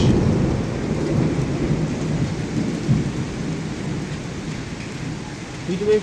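Steady heavy rain over Dhaka city with deep rumbling thunder rolling underneath, continuous and close throughout, no voices.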